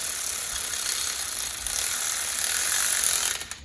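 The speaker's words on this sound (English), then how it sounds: "they're just a 7/16 nylock on here. Use my little air ratchet." A small air ratchet running on 7/16 nylock nuts during shock and suspension work on a truck, a loud, continuous high-pitched pneumatic whir that keeps up steadily, then cuts off near the end, close up.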